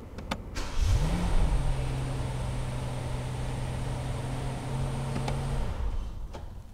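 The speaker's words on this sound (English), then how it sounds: "I will press the brake and press the start button." A Rolls Royce Cullinan with its 6.75 liter V12 starts up: a brief starter whirr, then the engine catches and settles into a smooth, steady idle, heard fairly close from inside the car, with a few clicks at start and end.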